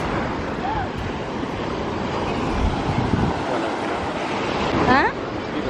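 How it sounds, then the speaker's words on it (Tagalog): Ocean surf and gusting wind on a windy Laguna Beach, California shoreline, a constant loud broadband wash with a brief swell near the end, faint bird chirps above it. "There is the ocean."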